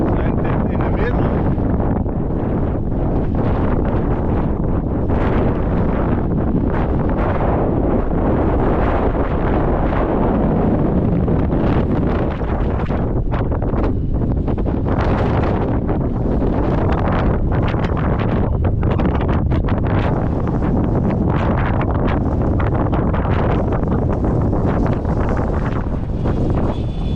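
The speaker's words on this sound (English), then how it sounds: "See, the wind is taking it." Strong wind buffeting the onboard camera of an E-flite Extra 300 RC plane flying in rain and windy weather, a constant loud roaring rumble with gusty swells throughout and no talk.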